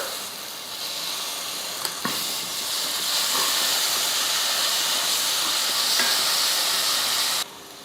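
Ginger garlic paste is added to golden fried onions for chicken biryani made in a pressure cooker. A loud, steady sizzle lasts several seconds, with a couple of small clicks, then cuts off sharply near the end.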